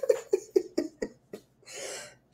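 A person coughs in a quick series of short bursts, then gives a longer breathy exhale, close to the listener.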